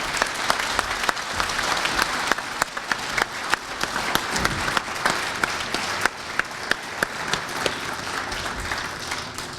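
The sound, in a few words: audience applause at hall of fame luncheon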